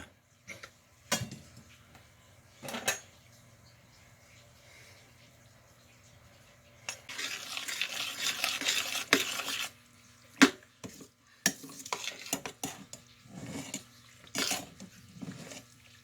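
Chopped vegetables go into a pan for a veggie casserole and get stirred, with scattered clinks and knocks of utensils on cookware, a dense tumbling rush in the middle, then more sharp, irregular clatter at moderate volume.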